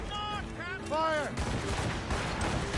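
Gunfire and cannon blasts in a naval ambush battle in Assassin's Creed Rogue, booming and crackling continuously beneath shouting voices and a swelling musical score.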